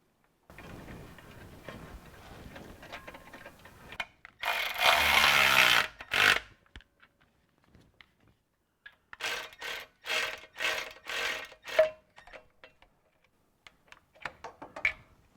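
A ratchet wrench clicks as torque converter bolts are tightened on a junkyard 4L60E transmission going into a Trailblazer, with a loud grinding rasp early on, then bursts of rapid close ratcheting separated by short pauses.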